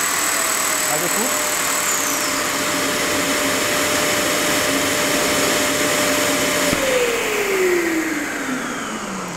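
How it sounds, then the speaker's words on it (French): A Kärcher WD 6 wet-and-dry vacuum cleaner runs with an electric sander attached, a steady loud motor roar with a high whine and tones that shift midway as the sander stops and the suction winds down near the end. "l'aspirateur va se déclencher."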